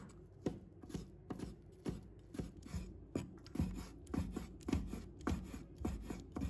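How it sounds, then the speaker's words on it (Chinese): A knife slices soaked dried shiitake mushrooms on a cutting board, giving a steady series of close, crisp chopping taps at a quick even rhythm with no talking. "把它切成片"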